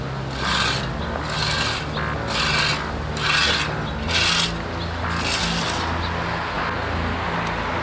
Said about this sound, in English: Just give everything a little rake in.